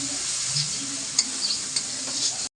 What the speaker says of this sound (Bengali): কাঁচামরিচ আর পেঁয়াজটা একটু ভাজে নেব। সাথে নারকেলটা একটু ভাজা নেব সুন্দর করে